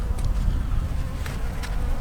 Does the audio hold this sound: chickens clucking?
no